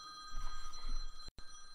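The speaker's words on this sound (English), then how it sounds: "of course the phone's gonna ring" A telephone bell rings steadily through most of the moment on a live automotive show about 1973–74 Chevy Novas, cutting off abruptly near the end and resuming briefly, fairly faint with no talk over it.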